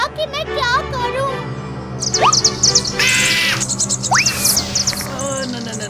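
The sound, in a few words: bird crying out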